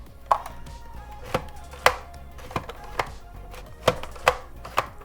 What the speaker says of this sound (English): to slice the potato, you're going to push down the lever here,